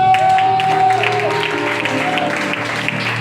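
A church congregation applauds and cheers in praise of the Lord, a dense wash of clapping over sustained musical tones that fades slightly toward the end.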